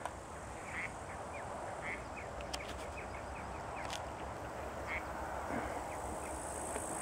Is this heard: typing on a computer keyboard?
no